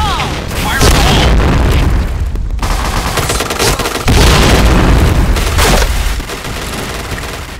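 Loud booming blasts and gunfire in the shooter game Point Blank, with a heavy explosion and continuous fusillade, dense and close throughout.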